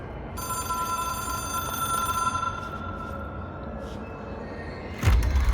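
A telephone in the video game Control rings steadily for about two seconds, then its tone fades into a humming background before a dull thump near the end; no one speaks.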